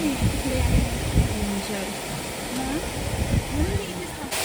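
Water falling below Khadkhad Dam makes a steady broadband rushing roar, with people talking over it throughout.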